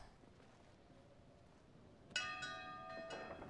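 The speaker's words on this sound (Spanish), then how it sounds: "quizás haya que tocar la campana" A bell is struck in Brothers: A Tale of Two Sons, ringing out suddenly and loud with a sustained metallic tone that decays. A second strike follows about a second later over quiet game ambience.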